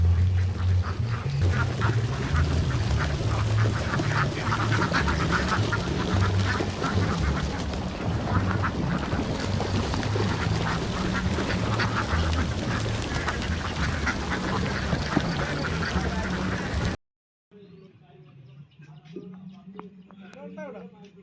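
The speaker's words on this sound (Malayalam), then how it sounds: "താറാവുകൾ വരുന്നുണ്ടത്" A flock of ducks quacks continuously and busily at a fishing spot, loud and close for most of the clip, then cuts to a quieter stretch with fainter calls.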